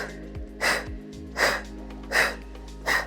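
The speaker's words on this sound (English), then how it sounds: "Exhale, exhale, exhale." Forceful, breathy exhales during a core-focused HIIT workout come in four sharp puffs at a steady rhythm about three quarters of a second apart, close and fairly loud, with no talk.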